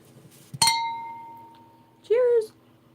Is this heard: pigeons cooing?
no